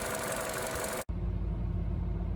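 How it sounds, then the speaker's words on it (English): The 1.4 engine of a 2014 Opel Corsa D idles with a steady low hum and faint mechanical ticking, close by; a sharp cut midway leaves a duller, darker idle continuing without speech. "now I'm gonna let the engine idle for another minute or so"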